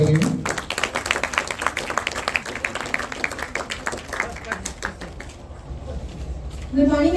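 Steady clapping from a school festival audience greeting a student speaker on World Youth Day, holding at an even level for several seconds before tapering off, with voices talking over it.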